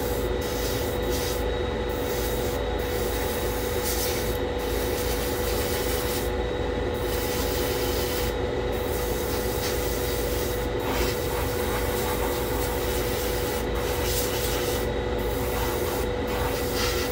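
Primer sprays from an airbrush onto a Tamiya 1/35 scale M3 Lee model in a spray booth. A steady, close hiss and airflow rush runs throughout, with brief breaks in the spray pattern and no talking.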